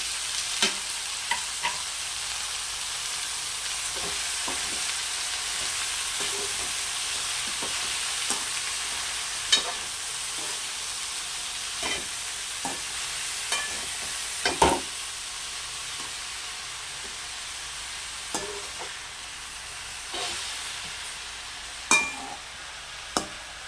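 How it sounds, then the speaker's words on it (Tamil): Chopped spinach sizzles steadily in a hot pan while a utensil scrapes and taps against it now and then, a continuous frying hiss with no speech. "கீரை நல்லா வதங்கி வரட்டும்."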